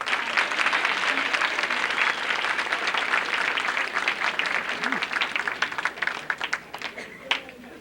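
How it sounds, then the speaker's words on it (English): Sustained applause from an audience at a 1986 vocational training center graduation in St. Louis, dense steady clapping that thins toward the end with faint voices in the crowd. "Let's give them a big hand of applause."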